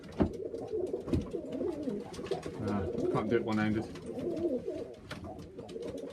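Pigeons in a loft among a kit of stock birds, with soft cooing and rustling close by under steady talk from a person nearby.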